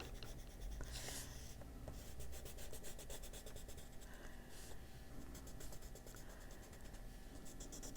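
Brown ochre colored pencil rubbed steadily up the side of a coloring-book page, a continuous close scratchy rasp with repeated short strokes and no talking.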